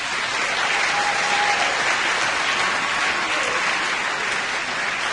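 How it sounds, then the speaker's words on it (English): A school auditorium audience claps loudly for middle-school students after their spring concert, a dense and continuous round of applause with no talking over it. "How about a big round of applause for the kids?"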